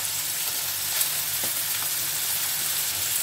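Meat sizzles in a frying pan after soy sauce and a spoonful of sesame are added for a keto goulash, a constant close hiss with faint stir clicks and no talking.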